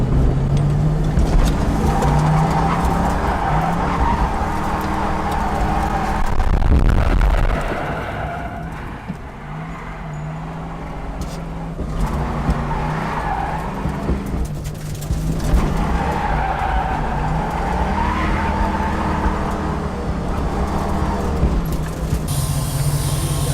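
A V8 drift car screams through revs while its tires skid and squeal, loud and close, with the engine surging, briefly dropping off mid-run, then building again into sustained slides.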